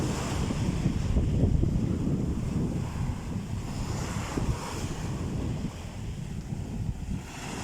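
Sea waves washing onto Azla beach near Tetouan, with steady surf rumble and heavy wind buffeting the microphone throughout, loud and close without any talk.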